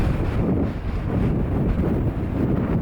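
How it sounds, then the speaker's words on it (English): Headwind buffets the microphone on a bike ride along a straight old Roman road, a loud, continuous low rumble with gusty fluctuations and no other distinct sounds. "Yep, headwind."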